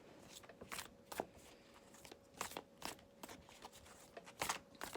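Oracle cards are shuffled in soft, irregular riffling bursts, quiet and close, over a faint steady background tone.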